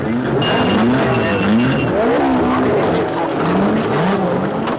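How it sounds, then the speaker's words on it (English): Race cars, including a Ferrari, rolling onto the starting grid, with a loud, continuous mix of several engines revving and droning at varying pitch, plus a brief high tire squeal. "Onto the grid, here they come. Ferrari."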